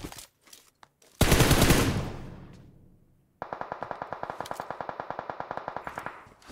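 Gunfire in PUBG Mobile: a single loud blast with a long decaying tail, then a steady rapid burst of automatic shots firing in an even rhythm, with no talk.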